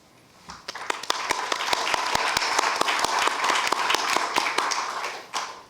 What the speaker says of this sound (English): If you would give yourself a round of applause